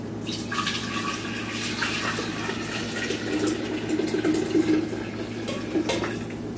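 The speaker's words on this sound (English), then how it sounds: "I'm going to take my glass jar right here and pour my tea into it" Brewed kombucha tea pours steadily from a pot into a glass jar, a continuous liquid splash and trickle lasting several seconds at moderate loudness without talk.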